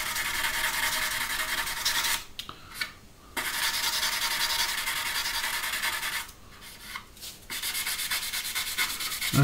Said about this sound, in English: in with a sanding sponge